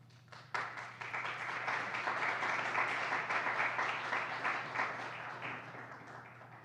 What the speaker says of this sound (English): Whether the applause was for the remarks or for the white paint.